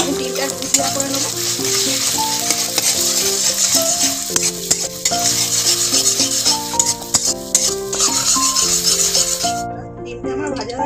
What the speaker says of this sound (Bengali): ডিমটা ভুজিয়া করে নেবো।